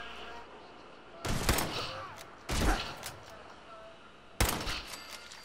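Three loud shotgun blasts in the video game Fallout 4, spaced apart, each a sharp burst with a short decaying tail, over faint background ambience.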